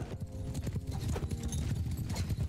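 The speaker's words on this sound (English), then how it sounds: "Oh, there's another horse." Horse hooves clip-clop steadily and quickly in Mount and Blade Bannerlord, a dense, continuous patter of close, loud galloping beats with no talking.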